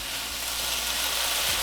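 Chicken spring roll filling sizzling in a hot pan, a steady broadband frying hiss that holds even and close throughout with no talk.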